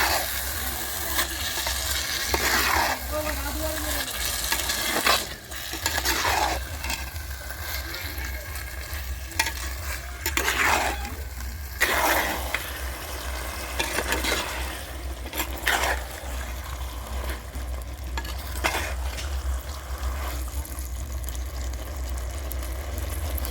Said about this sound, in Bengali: এইবার আমি চিকেনের টুকরোগুলো দিয়ে দেব। দিয়ে খুব ভালো করে কষিয়ে নিতে হবে।